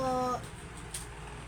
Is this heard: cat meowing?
yes